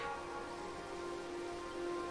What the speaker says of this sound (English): Yeah, so it's raining today.